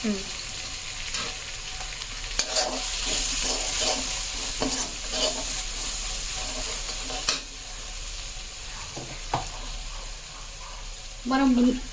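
Masala paste for a Telugu fish curry frying in a pan, a continuous hissing sizzle broken by repeated scraping strokes of a spoon stirring, with a few soft knocks and a louder clatter at the end.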